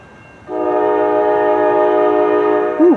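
A Nathan K5LA horn on a Norfolk Southern GE locomotive blasts one long, loud, steady chord that holds for about two and a half seconds up close at night before cutting off.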